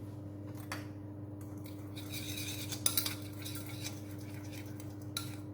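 Caster sugar being stirred into a mixture with a spoon, producing faint, quick clinks and scrapes against a bowl over a low steady hum, quiet and close.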